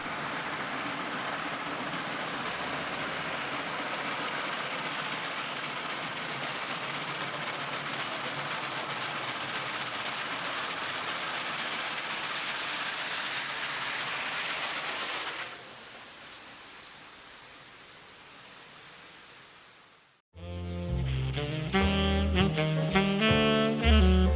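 Norfolk and Western No. 1218, a class A steam locomotive, rumbles past in a steady loud roar with rail clatter, fading after about fifteen seconds before an abrupt cut to music.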